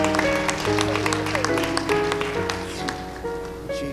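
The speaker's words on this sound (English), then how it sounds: "give the Lord a hand clap of praise" Church congregation clapping hands in praise, a steady crowd clap mixed with music and sustained tones, fairly loud and continuous throughout.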